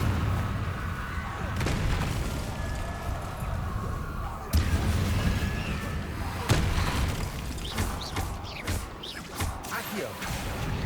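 Repeated Confringo blasting-spell explosions in Hogwarts Legacy boom over a steady bed of game noise and music, with sharp impacts landing at irregular intervals, loud and close.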